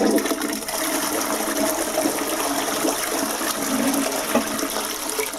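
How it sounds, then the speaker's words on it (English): A toilet fitted with a Fluidmaster dual flush valve runs a full flush: a steady, loud rush of water pouring through the bowl for several seconds, close by and with no talking. "And that's a full flush."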